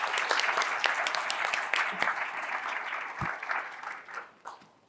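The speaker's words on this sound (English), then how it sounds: "Round of applause." An audience at a leadership talk with General Mills CFO Kofi Bruce claps in sustained, dense applause that holds steady for several seconds, then thins out and fades near the end.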